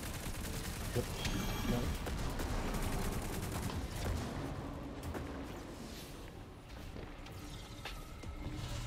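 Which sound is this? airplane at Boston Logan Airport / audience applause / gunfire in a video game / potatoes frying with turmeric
gunfire in a video game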